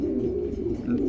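Fantail pigeons kept for sale give a soft, low cooing, a brief continuous murmur heard up close and alone.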